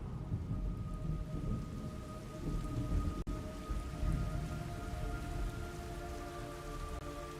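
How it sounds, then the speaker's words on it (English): A steady downpour hisses and patters over deep rolling thunder in the Metal Gear Solid Delta: Snake Eater game, with a sharp crack of thunder just past the midpoint and a fainter one near the end; no voices are heard. "It's raining blood."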